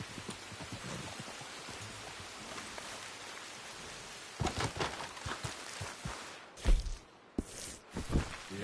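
Rain falling steadily across open creek-side country in Red Dead Redemption 2, a continuous hiss with scattered patters, joined midway by louder footsteps and rustling bursts near the listener.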